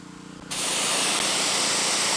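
A water sprayer suddenly starts and rinses soap off a 1983 C10 truck, giving a loud, continuous broadband hiss that holds steady after the abrupt start.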